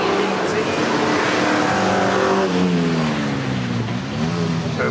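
A Porsche 924 and a Lancia Beta race through Coppice at Cadwell Park in a historic sports car race. Loud, close engines rev and rise in pitch as they pass, and a commentator talks over them.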